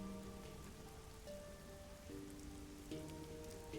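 Rain falling in a busy, neon-lit city district in the video game Rain Code, a soft steady patter on surfaces with faint musical tones underneath, quiet and continuous.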